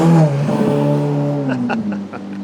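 Race cars in a motor race near Palermo roar past close by, their engines loud and droning before dropping in pitch and fading as they pass.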